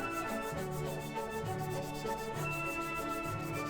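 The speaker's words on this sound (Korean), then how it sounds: "인두기 자국들은 100방 정도의 거친 사포로 구석구석 갈아줍니다" Coarse 100-grit sandpaper rubs back and forth over a plastic figure to smooth out soldering-iron marks, a steady, close scratchy rasp with a regular stroke rhythm and no talking.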